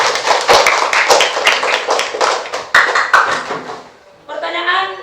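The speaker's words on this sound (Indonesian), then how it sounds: "Tepuk tangan semuanya." Sixth-grade pupils in a primary school Islamic studies class clap their hands together, a fairly loud cluster of overlapping claps that fades, followed by a brief burst of voices.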